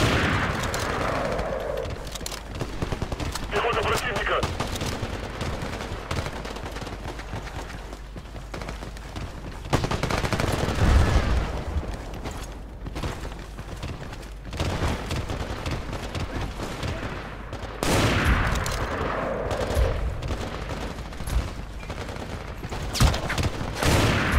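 Gunfire in the online shooter Battlefield Play4Free crackles in repeated bursts and single shots amid a dense, rumbling battle din with distant explosions, sustained throughout at moderate loudness.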